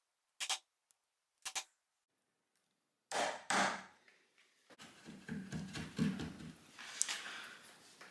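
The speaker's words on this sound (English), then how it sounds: "just very carefully shaving off more wood" A wood chisel pares thin shavings from a door edge while a hinge recess is fitted: a few sharp isolated taps and scrapes, then a stretch of continuous close scraping and crackling cuts, with brief silent pauses between.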